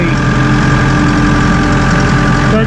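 A Massey Ferguson 2850E compact utility tractor engine runs steadily at a set RPM, a loud, even diesel drone with constant hum and no speech.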